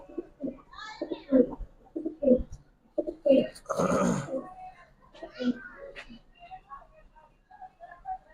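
Giribaz pigeons give soft, intermittent cooing calls close by, mixed with someone talking over them.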